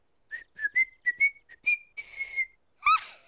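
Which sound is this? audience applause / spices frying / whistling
whistling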